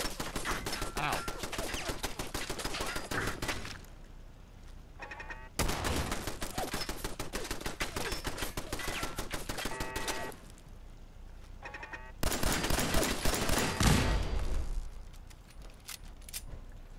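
Rapid turret gunfire in Fallout 4 at the Corvega Assembly Plant comes in three loud sustained bursts of dense shots, separated by quieter gaps.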